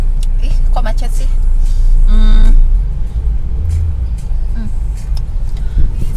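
Steady low rumble of car engines idling and creeping in heavy traffic, close and loud, with a brief horn-like tone in the middle and a person talking over it.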